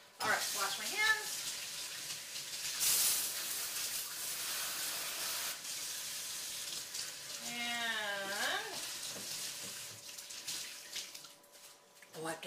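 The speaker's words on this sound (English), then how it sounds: "All right, wash my hands." Kitchen tap water running steadily at a sink during handwashing in a home kitchen while baking, a continuous hiss lasting throughout, with a voice speaking over it.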